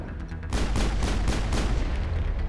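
An enemy shock trooper fires a rocket in Mass Effect, a sudden loud blast after a quieter opening that swells into a sustained roaring rumble lasting a couple of seconds.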